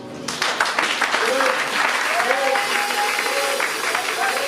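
A church congregation bursts into sustained applause for Jesus, dense steady clapping filling the room with voices and cries rising over it.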